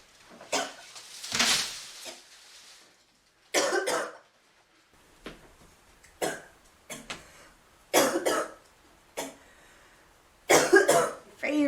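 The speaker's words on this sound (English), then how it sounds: "You were coughing quite a bit." A girl coughs after vaping, several harsh, rough bursts spaced across the moment with quiet gaps between, close and fairly loud, with a little throat clearing.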